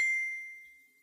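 A single bright chime of a cellphone chat message notification, ringing clear and close then fading smoothly over about a second, heard alone.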